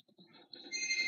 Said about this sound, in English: Oh, there was a phone ringing.